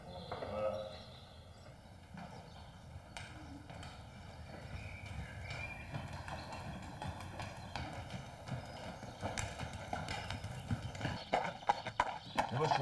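A horse trots and walks around a riding arena, giving steady clip-clop hoofbeats throughout while a person talks over them.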